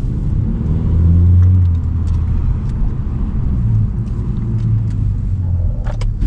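A 2019 Honda Civic Sport with a K20C2 engine, tuned with lowered VTEC at 5300 RPM, is driven hard, its engine note swelling into a loud, sustained droning rumble from inside the cabin with no talking.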